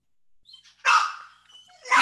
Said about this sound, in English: my dog and cat are fighting